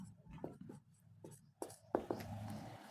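A pen scratches across paper as someone writes out the working of a linear-equations maths exercise, short soft strokes in irregular bursts, close and quiet.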